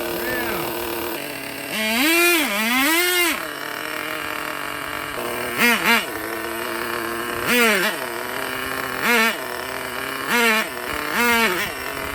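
Traxxas Pro .15 nitro engine in an RC car, revved in repeated short whining bursts that climb and fall in pitch between quieter idling, with a person talking over parts of it.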